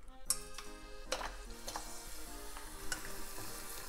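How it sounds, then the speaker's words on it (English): Dry cut mochi rice cakes frying in oil heated to about 160 degrees over medium heat, giving a close, steady sizzle dotted with sharp crackles and pops, with no talking. "Then here I'm going to put in these dry cut up mochi."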